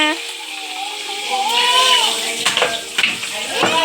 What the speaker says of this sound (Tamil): நெத்திலி பொரிச்ச எண்ணெயிலேயே மிளகா சாந்து போடணும்